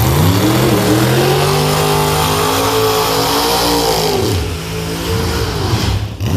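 A door car drag race final at an outlaw meet, including a nitrous-powered 1969 Chevy Camaro: engines roar loudly and continuously at high revs, pitch bending and shifting as the cars launch and pull away down the strip.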